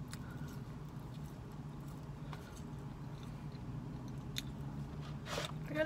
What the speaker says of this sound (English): I'm just munching right now.